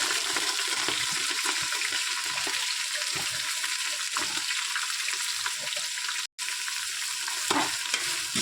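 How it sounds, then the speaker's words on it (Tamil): Onion, green chili and curry leaves sauté in a hot pan, giving a loud, continuous close sizzle with stirring scrapes and a brief dropout near the end. "வெங்காயம், பச்சை மிளகாய், கருவேப்பிலையெல்லாம் போட்டு நல்லா வதக்கணும்."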